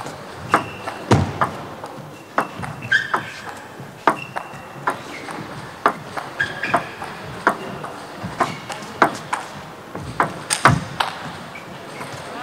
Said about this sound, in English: And the huge forehand comes back.